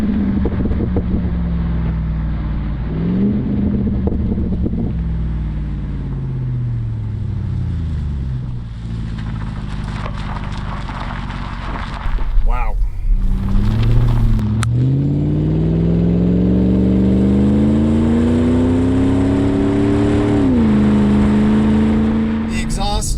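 Range Rover Sport L320 with a Magnaflow exhaust driving through a canyon, a loud close engine drone rising and falling through gear shifts, with a sharp rev mid-drive and wind noise.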